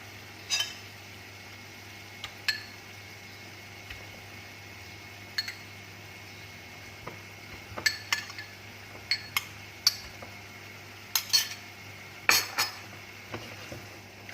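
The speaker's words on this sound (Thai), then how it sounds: "เดี๋ยวไข่จะแตกเราก็ค่อย ๆ คนนะคะ" A utensil stirs eggs into pork palo stew in a pot, making scattered light clinks and scrapes against the metal, some single and some in quick pairs, over a quiet background.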